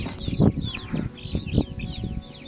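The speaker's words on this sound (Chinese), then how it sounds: "这鸡还在那咯咯咯的叫" Chickens on a pond farm raising bullfrog tadpoles cluck close by in short, repeated bursts, with several overlapping calls and no speech.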